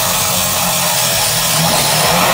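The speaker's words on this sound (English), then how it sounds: "I'm drilling holes for these slide-by doors for the little handles that we put." Power drill boring holes in cabinet sliding doors for small handles in a nearly finished new home, a steady loud whirring drone running continuously and close with no pauses.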